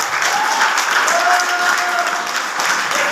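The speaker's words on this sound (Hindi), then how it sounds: "ताली बजा दीजिए" Steady, sustained applause from an audience at a Modicare achievers event, a dense wash of clapping that holds level and close throughout without a break.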